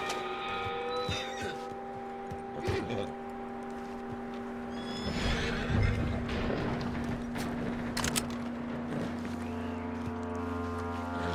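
A horse neighs in the video game Red Dead Redemption 2, with a whinny rising amid ambient game sound, music and distant effects, moderately loud against a busy background.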